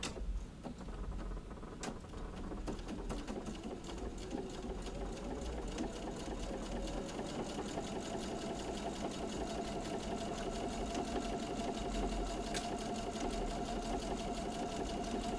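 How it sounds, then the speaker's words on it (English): A sewing machine stitches a French seam in a steady, continuous mechanical whir that runs close and loud throughout, with faint ticking from the needle mechanism and no talking. "I like to sew where the needle stops in the down position, because then I can reposition my fabric without losing my place."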